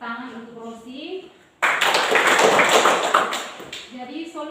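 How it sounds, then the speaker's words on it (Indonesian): Classroom applause for Rosi during a teacher-training lesson bursts in after a brief stretch of speech, a dense clatter of clapping lasting a few seconds before the voice returns at the end. "mari kita berikan tepuk tangan untuk Rosi"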